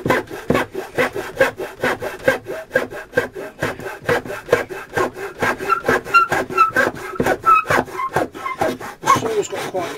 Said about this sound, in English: I'm watching the saw as I'm going through, I'm watching it cutting on the line